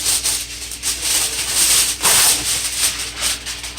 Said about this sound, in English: Just get aluminum foil and cover.